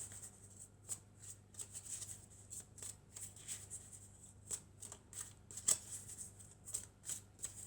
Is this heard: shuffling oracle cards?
yes